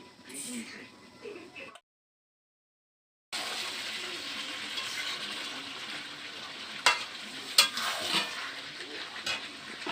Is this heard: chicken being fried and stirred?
yes